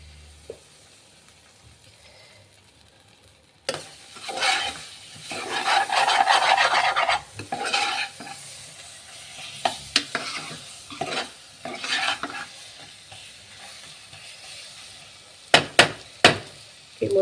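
Chopped whole tomatoes hit a hot pan and hiss, then a spatula scrapes and stirs them in rough, repeated strokes, ending with a few sharp clacks against the pan; little talk.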